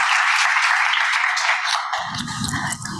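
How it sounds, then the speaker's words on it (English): Applause from a seated audience at a wellness talk, steady and fairly loud for about two seconds before fading into room noise and handling sounds. "let's give them a round of applause"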